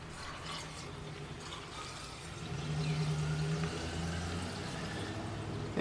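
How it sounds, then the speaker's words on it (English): Coolant pours from a container into a car radiator while it is topped off after a water pump replacement, a soft gurgling flow that grows a little fuller partway through, with no talk. "gonna have to add a little bit more coolant here"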